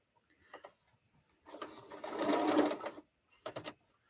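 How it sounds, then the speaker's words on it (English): A sewing machine stitches a quilt block with a short burst of sewing, then a longer steady run of rapid mechanical clatter, then another brief burst, all close up with no voices. "So now to sew it again."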